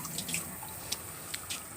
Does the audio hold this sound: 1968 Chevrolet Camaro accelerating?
no